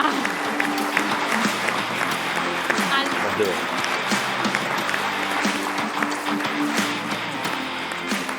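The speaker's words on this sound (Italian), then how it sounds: "Un applausone, bravissima!" An audience applauds steadily in a sports television studio, a dense, continuous patter of clapping with a voice talking over it.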